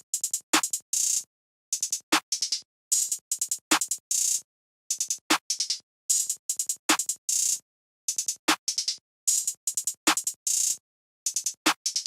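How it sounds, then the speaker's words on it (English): A short open hi-hat from a trap drum kit plays a basic repeating pattern among rapid hat clusters, rolls and punchy hits, a dense, loud and steady loop with no voices. "Then for the next thing I had the short open hat from my stash kit,"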